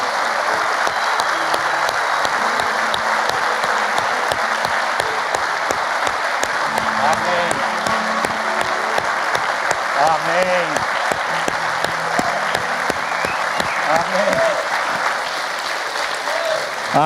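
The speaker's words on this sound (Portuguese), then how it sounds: "Eu queria que você desse uma salva de palmas ao Senhor pela vida dessa." Sustained applause from a church congregation fills the space steadily throughout, dense and loud, with a voice speaking briefly over the clapping at moments.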